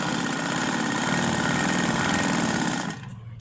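A sewing machine stitches steadily close up, giving a fast, even mechanical chatter for about three seconds before it slows and stops, leaving a quieter hum.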